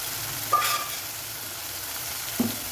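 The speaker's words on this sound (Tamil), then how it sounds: "தக்காளி நல்லா வதங்கி நமக்கு சுண்டி வரணும்" Ground tomato purée sautéing in a pan for a Tamil okra curry, giving a steady low frying sizzle throughout with a couple of brief stirring clinks, no voices.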